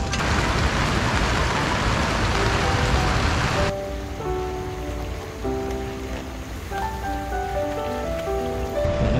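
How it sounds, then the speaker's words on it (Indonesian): Rain falls steadily on a campsite, first as a dense, loud hiss that drops suddenly to a softer patter with scattered drips and faint background sounds. "Hujan."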